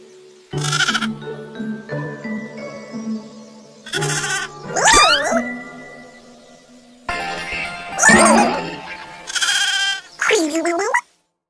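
A sheep bleats several times in loud, close, wavering cries separated by short pauses.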